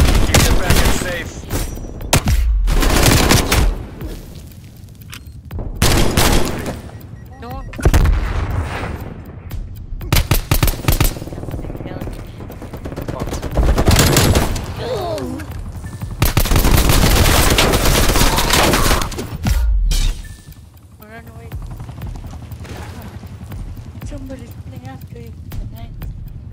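Rapid gunfire and explosive bursts erupt around a VIP escort in Call of Duty: Black Ops Cold War, loud and repeated in clustered volleys with brief lulls, mixed with in-game voice callouts.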